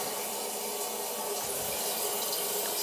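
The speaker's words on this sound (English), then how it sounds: "Wait for the toilet to fill." A toilet tank fills with water, a soft, steady hiss and rush of running water heard close and alone for a few seconds.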